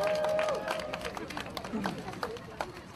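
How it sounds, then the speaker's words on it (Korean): Scattered clapping from a crowd at a Marine Corps marathon in Seoul, with a busy outdoor hubbub of voices and movement. Someone speaks briefly over the noise. "박수"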